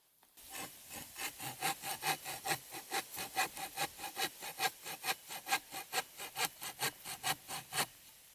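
A hand saw rasps back and forth through a wooden branch in a steady rhythm, roughly two dozen strokes, close and clear with no talking.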